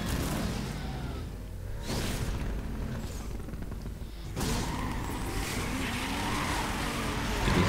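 A Pontiac and a Monaro race in Need for Speed: Most Wanted, engines roaring in a steady wash of road and wind noise with whooshes as the cars pass, fairly quiet overall.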